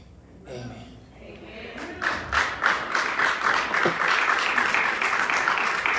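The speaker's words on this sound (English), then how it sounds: "Come on, clap your hands one more time." A church congregation claps hands, starting with a few scattered claps and building into steady, loud rhythmic clapping from a large room that continues to the end.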